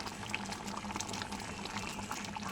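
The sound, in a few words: jute leaf dal simmering in a pot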